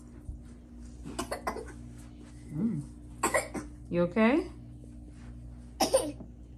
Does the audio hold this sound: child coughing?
yes